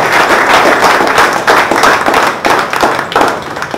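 Audience clapping at an office batch farewell event, a loud, dense burst of applause from a crowd of hands that carries on steadily throughout.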